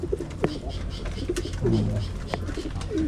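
Pigeons in a loft coo in low, soft, repeated calls, several overlapping birds close by, while a person talks faintly in the background.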